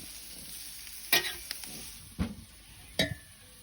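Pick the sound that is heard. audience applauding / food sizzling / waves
food sizzling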